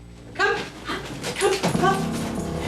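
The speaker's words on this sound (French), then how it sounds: "j'ai appelé le chien pour qu'il monte sur le lit" A dog whimpering in high, wavering whines mixed with soft panting breaths, close by and repeated several times with short gaps, carrying over a low background hum.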